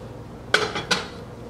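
A metal cooking pot clanks twice as it is picked up and set down, short ringing knocks in a quiet room.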